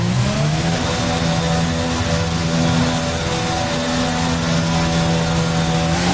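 F1 race car from the F1 2020 video game pulling out of the pits, its engine note rising in a steady, loud, continuous drone with layered harmonic whine, no gaps throughout.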